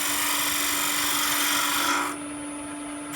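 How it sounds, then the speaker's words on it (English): A spindle gouge smooths a spinning wooden trinket box on a lathe, making a continuous rasping hiss over the motor's steady hum, until the cutting drops away near the end and leaves the quieter whir of the machine. "I'm going to smooth this up with a spindle gouge"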